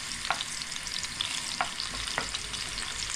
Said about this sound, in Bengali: এই তো লাল শাকের জন্য আমি রসুনটাকে গোল্ডেন ব্রাউন হওয়ার জন্য দিয়ে দিয়েছি।